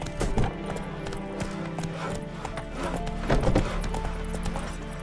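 Roach the horse galloping in Witcher 3: rapid clip-clop of hooves on the ground, close and steady throughout with ambient game sound beneath.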